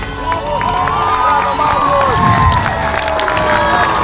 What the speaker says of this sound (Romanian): Aplauze pentru Marius, dar nu e singurul.